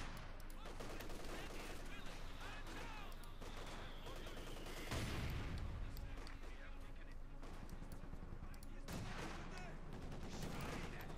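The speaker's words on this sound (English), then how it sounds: "Heavy machine gun suppressed by the other heavy machine gun." Heavy machine gun fire in Company of Heroes 2, a 1v1 World War II strategy match, rattling in dense sustained bursts amid other gunfire and battle noise, with a commentator talking over it throughout.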